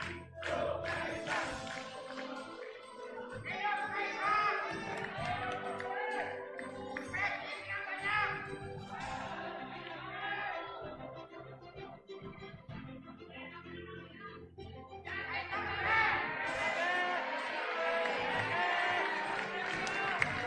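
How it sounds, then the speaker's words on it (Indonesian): A large crowd at a PSI political party national gathering cheers, chants and applauds loudly and continuously, with the noise swelling toward the end and a host's amplified voice speaking over it. "Kita iringi dengan tepuk tangan yang meriah."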